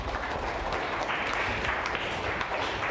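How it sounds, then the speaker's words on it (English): A seminar audience bursts into a continuous wash of applause, dense and even, filling the whole stretch without a break. "give everybody a round of applause"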